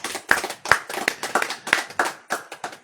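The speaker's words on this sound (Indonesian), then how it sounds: "Tepuk tangan." Audience at a religious lecture clapping hands in a short burst of about a dozen uneven, crisp claps, fairly close and loud, with no talk over it.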